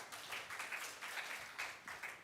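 A church congregation applauds in dense, continuous clapping heard at a moderate distance, with a steady rhythmic texture throughout.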